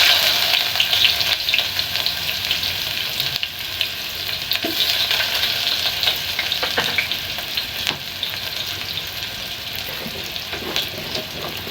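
Onions fry in a pan with a loud, continuous crackling sizzle, with frequent sharp pops and stirring clicks throughout.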